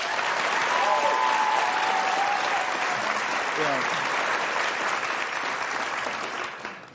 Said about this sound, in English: By applause, how many of you would follow Amanda Cerny?